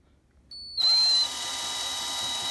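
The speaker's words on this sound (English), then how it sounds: "So I'm just testing it with my power drill here." A power drill spins the broken VDO odometer gear of a Porsche 924/944, starting with a faint whine, then a loud steady high-pitched drone with a brief squeal before settling into a continuous buzz.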